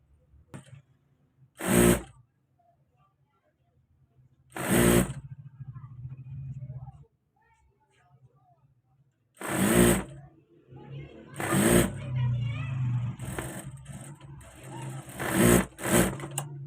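A sewing machine stitches the front of a trouser in six short bursts of fast whirring, each a second or so long, separated by pauses, with a person talking quietly between and under the runs.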